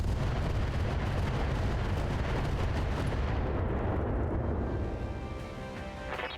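Missile volley explosions from the BattleTech RogueTech video game form a dense, continuous roar of overlapping blasts and rumbling booms that hold loud throughout, easing off slightly near the end.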